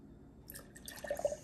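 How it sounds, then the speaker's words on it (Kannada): Half a cup of milk poured into suji marble cake batter along with ghee, a soft close trickle and drip building into faint splashes over a second or so. "ಸೊ ಅರ್ಧ ಕಪ್ ಹಾಲು ಹಾಕ್ತಾಯಿದ್ದೀನಿ."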